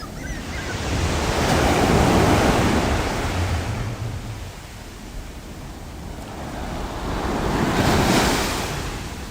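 Ocean waves break on a beach at sunrise, two broad surging roars rising and fading with wind buffeting the microphone, loud and close with no voices.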